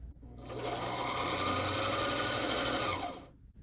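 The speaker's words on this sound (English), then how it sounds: "Hold on to the top thread and press on your foot controller and let the bobbin wind." Singer 2517C sewing machine running steadily to wind a bobbin, a continuous close motor whir with a fast mechanical hum that starts, holds at an even level for about three seconds, then stops.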